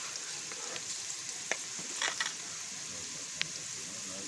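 Onions browning in oil in a pan for a Pakistani-style chicken dish, a faint steady sizzle with a few soft clicks and stirring scrapes, no voices.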